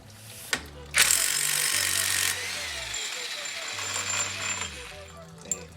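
Hammer striking a pin on a truck axle: a couple of sharp metallic hits followed by a long harsh scraping, grinding burst and another isolated clank, close and fairly loud, with people talking at times.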